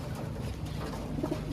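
Pigeons cooing in a crowded loft, soft low repeated coos layered over one another, close by and steady throughout with no talk.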